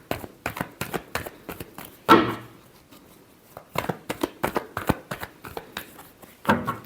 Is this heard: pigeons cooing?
no